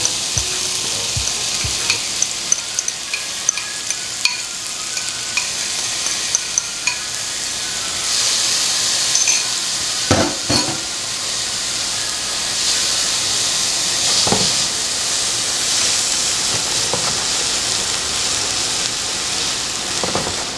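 Vegetables fry in about a tablespoon of oil in a pan, giving a steady, close sizzle and hiss that continues for twenty seconds. Occasional stirring clicks and scrapes come through, and nobody talks.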